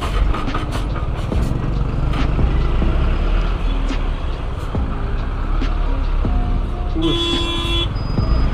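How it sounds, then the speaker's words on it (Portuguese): Car horns toot through heavy city traffic with trucks and cars, a few short beeps and one longer blast over a constant loud road roar, heard from a moving motorcycle. "É, buzina batendo galado,"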